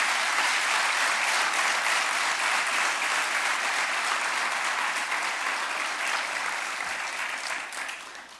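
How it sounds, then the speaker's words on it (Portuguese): An audience applauds municipal staff at the swearing-in of new local government officials, with dense, sustained clapping from a large crowd that fades out toward the end. "E eu peço uma grande salva de palmas para os nossos funcionários da autarquia"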